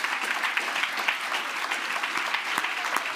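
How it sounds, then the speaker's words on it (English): An audience at the Spirit of Manchester 2023 awards applauds as nominees come up to the stage. The clapping is dense and steady, with many hands sustained throughout and scattered sharper claps standing out from the crowd. "so keep clapping"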